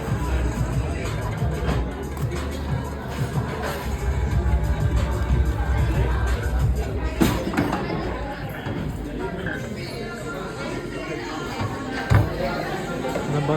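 Busy restaurant at night, a dense crowd hubbub of overlapping chatter with clinks and a few sharp knocks, voices close by over the general din.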